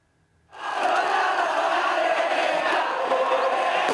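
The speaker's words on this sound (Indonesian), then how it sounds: "Sorak-sorai supporter sambil meneriakkan yel-yel klub." A large crowd of Persija Jakarta football supporters suddenly roars into loud, sustained cheering and chanting club songs, a dense wall of voices that continues without a break.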